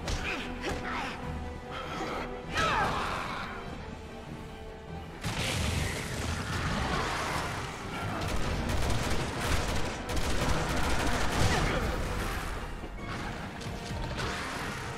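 A window being smashed in the video game Resident Evil, playing as Leon, with loud crashing impacts and breaking noise amid ongoing gunfire and combat sounds.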